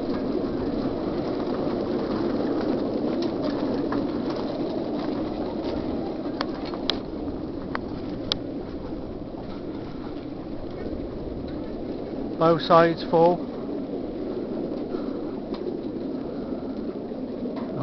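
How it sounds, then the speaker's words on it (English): Young racing pigeons packed in crates on a trailer during crate training, giving a steady low cooing murmur throughout with a brief louder flutter near the end, while someone speaks briefly. "Now the young birds are all on the trailer."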